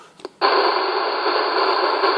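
A CB radio receiver opens onto a transmission buried in heavy static, with a loud, steady hiss holding from the click of the squelch to the end.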